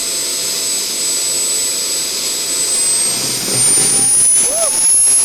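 A JetJoe 1400 model turbine jet engine runs with a steady high-pitched whine and broadband roar that swells louder toward the end, while excited voices call out nearby.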